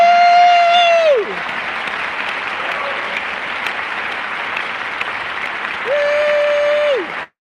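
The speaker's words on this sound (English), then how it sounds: "would you four be so kind and stand up and receive the applause of the audience?" An audience applauding an instrumental quartet at a Messiah concert in Chicago, a loud, dense wash of clapping from a sizable crowd, with a sustained whoop or whistle at the start and again near the end.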